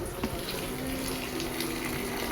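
Freshly boiled water from an electric kettle pours in a steady, close gurgling stream into a pan of spiced rice in a home kitchen, with no other sound over it.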